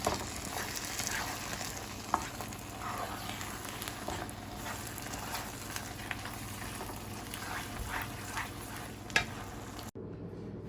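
Sarson ka saag with red chili flakes stirred in a pan, a steady frying sizzle running throughout with occasional scraping clinks of the spoon, fairly close and unaccompanied by voices, cutting off abruptly near the end.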